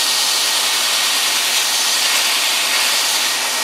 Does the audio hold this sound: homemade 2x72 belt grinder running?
yes